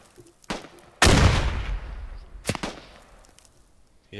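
Gunfire in the video game Squad: a small shot, then one loud close blast with a long echoing tail, followed by another sharp crack, with quieter distant reports between.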